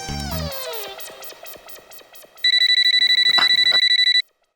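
A phone rings with a rapid, repeated electronic trill, loud and close, after a stretch of descending musical tones; no one speaks.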